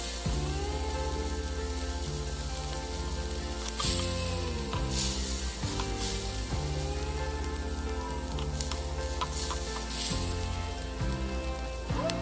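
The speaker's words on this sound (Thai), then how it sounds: "I will use the oil that come out from the bacon to stir fry my spices and seasoning" Spices and seasoning stir-frying in rendered bacon oil give a steady, even sizzle like light rain. Background music with sustained chords plays louder throughout.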